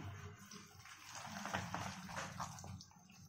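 Water poured into a bowl of semolina (suji/rava) idli batter, a soft continuous liquid splash and trickle lasting a few seconds at close range, fairly quiet, with no talking over it.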